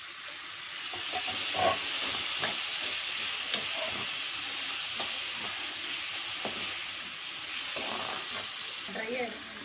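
Chopped tomatoes fry in a pan for potato masala rice, making a constant hissing sizzle broken by stirring scrapes, with a voice speaking softly at moments.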